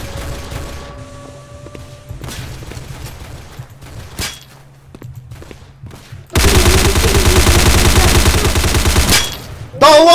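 Gunfire in the Roblox shooter Counter Blox: scattered single game shots and clicks, then a loud sustained burst of rapid automatic fire lasting about three seconds before a sudden stop.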